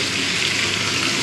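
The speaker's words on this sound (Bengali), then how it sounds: "রসুন কুচিটা দিয়েও ভালো মতো ভেজে নেবো" Chopped garlic sizzles in hot oil with butter-fried prawns, a loud, dense, steady frying hiss heard up close with no talking.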